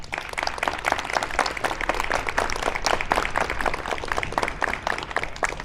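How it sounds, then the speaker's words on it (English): Sustained audience applause at an outdoor sustainability forum, many hands clapping steadily and fairly loud throughout, with no break in the sound. "Please join us in a round of applause,"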